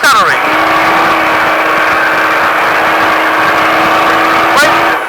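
A Baja truck engine roars loud and close, holding steady at high revs for about five seconds with a brief surge near the end, the throttle pulled back and reapplied.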